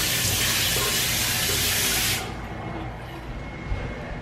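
Tap water runs into a sink while someone washes their face, a loud, steady rushing hiss that cuts off about halfway through, leaving a quieter room with faint rustling.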